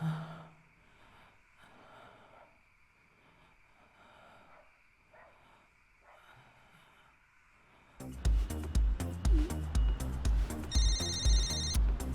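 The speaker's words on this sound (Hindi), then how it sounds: "मैं तुम्हारे बेटे को फोन कर रहा हूं, हाँ?" After a quiet stretch of faint room noise, a loud electronic ringtone starts abruptly and repeats in a steady, insistent pattern.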